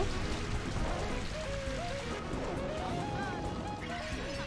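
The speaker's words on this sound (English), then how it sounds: "They all know Rain Dance." Rain Dance rain effect from the Pokemon Colosseum video game: a steady, dense patter of rain holds throughout, mixed with game music tones and faint voice-like sounds.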